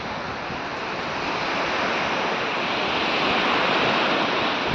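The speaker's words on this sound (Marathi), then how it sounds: "तुम्ही बघू शकता डहाणूचा समुद्र" Sea waves at Dahanu beach roll in as a broad, continuous wash of surf, steady and moderately loud with no voices over it.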